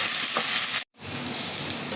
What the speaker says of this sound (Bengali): আমার আদা রসুন সুন্দর করে কষানো হয়ে গেছে